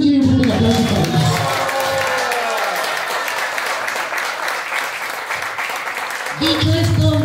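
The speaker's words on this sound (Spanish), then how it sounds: "Que se escuche bien fuerte el aplauso para ellas." Guests at a birthday party applaud the two birthday girls after a Cepillín impersonator's show, sustained clapping and crowd noise between stretches of a loud amplified voice talking at the start and end.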